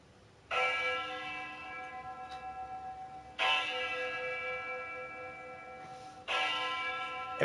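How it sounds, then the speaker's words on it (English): Three loud, resonant bell strikes toll at roughly three-second intervals, each ringing out with a long shimmering decay and slow wavering pulses before the next stroke. "The bell is tolling."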